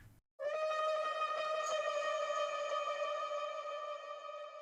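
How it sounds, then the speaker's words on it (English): Atmos Cry, an atmospheric layer in a Christmas pop track, swells in after a brief gap as a steady, bright sustained tone with shimmering overtones, fading slightly as it holds. "Another thing that I added that I forgot to show you guys is this thing that I called Atmos Cry."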